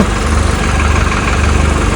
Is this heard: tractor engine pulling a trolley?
yes